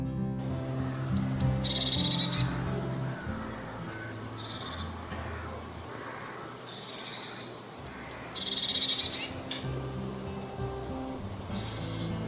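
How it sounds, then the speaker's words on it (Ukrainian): Tits calling repeatedly from fairly close by, thin high chirps in short bursts over a steady outdoor background hum with faint insect noise. "синиці можуть видавати до 40 різних звуків."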